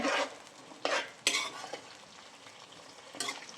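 Pirandai sautéed in oil in a pan, heard as scraping stirring strokes and clinks of a utensil against the metal over a soft continuous sizzle, close by.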